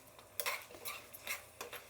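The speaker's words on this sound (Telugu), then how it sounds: "ఇప్పుడు మొత్తం కలుపుకునేద్దాం." A spoon stirs pulihora (tamarind rice) premix in a pan, giving quiet, irregular metallic scrapes and clinks about every half second with no voices.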